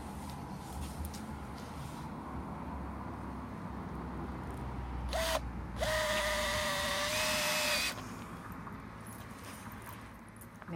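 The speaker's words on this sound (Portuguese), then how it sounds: "Aqui eu vou meter estes parafusos com a máquina" A power drill driving screws into wooden stakes outdoors in Portugal, with two short whirring bursts, the second longer, over steady background noise.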